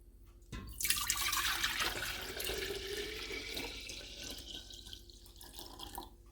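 Water runs to rinse residue from the bottom of a container during fish leather tanning, a sudden splashing rush that starts abruptly, then settles into a softer steady trickle, fairly quiet with no voices.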